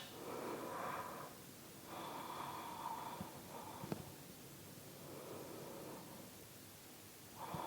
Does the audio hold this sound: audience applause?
no